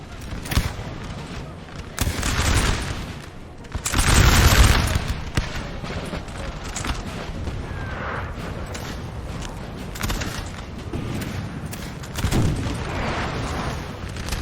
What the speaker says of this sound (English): look at this point-blank fire